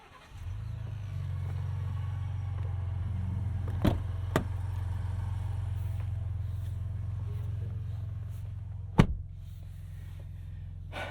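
A 2022 Lincoln Navigator engine starts and settles into a steady low idle hum that fills the cabin for several seconds, broken by a couple of sharp clicks and a thump, with no talking.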